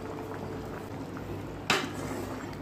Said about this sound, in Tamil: இப்போ குழம்பு நல்லா கொதிக்க ஆரம்பிச்சிச்சு.